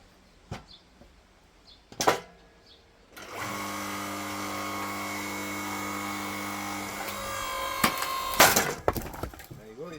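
A hydraulic log splitter forcing through a dense log from a big pile: a few sharp cracks, then a steady loud strained whine holding for several seconds before the wood bursts apart with a loud splintering crack.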